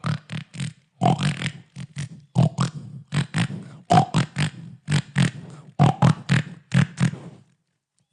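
A human voice imitates the grunting of a wild pig found only in Brazil, producing a loud, rhythmic series of short, throaty grunts in quick bursts, with no other sound around it.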